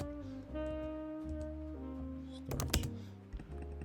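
Keys on a computer keyboard tapped in a short burst of quick clicks partway through, sitting under steady tonal background sound with a few softer taps around it.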